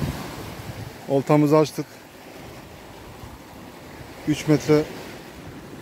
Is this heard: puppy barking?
no